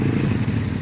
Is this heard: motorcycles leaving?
yes